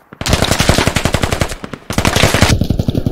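Sustained automatic gunfire in the video game Squad, a loud, close, rapid stream of shots with a brief pause before firing resumes, then an echoing tail.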